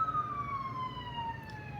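A siren wails continuously with steady, slowly falling tones over a low traffic rumble, fairly close and uninterrupted.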